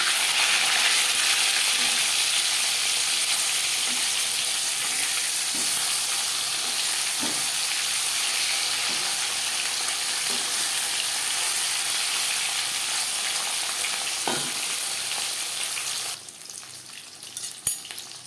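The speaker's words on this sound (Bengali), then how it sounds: "মাছ ভাজা হয়ে গেছে" Pieces of rohu fish fry in oil with a steady, close sizzle broken by soft scraping taps of a spatula, then the frying quiets abruptly near the end as handling sounds take over.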